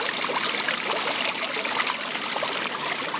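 Fountain water splashing steadily over a Samsung Gear 2 smartwatch, a dense close spray and trickle that runs unbroken and fairly loud.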